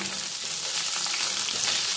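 Potatoes and carrots frying in a pan give a steady, loud, close sizzle that holds evenly throughout, with faint stirring and no voices.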